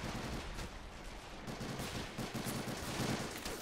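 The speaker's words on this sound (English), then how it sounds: "Some G43 return fire." Rifle gunfire from G43 rifles in the World War II strategy game Men of War Assault Squad 2, a Battle of the Bulge city defense, with dense overlapping shots and battle noise sustained throughout.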